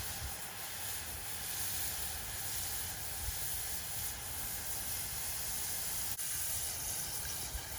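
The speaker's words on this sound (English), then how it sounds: "So what I got was fettuccine noodles, and we can fry a little bit so that it becomes crispy." Fettuccine noodles frying in very hot oil for Burmese coconut chicken curry noodles, a steady loud hiss and sizzle running unbroken throughout with one brief crackle near the end, no talking.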